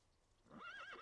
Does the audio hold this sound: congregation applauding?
no